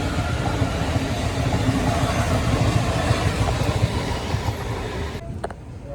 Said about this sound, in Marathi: आता ट्रेन सुटलं आहे सिग्नलवरून